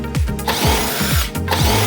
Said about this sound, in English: you can use an impact driver to remove the leg bolt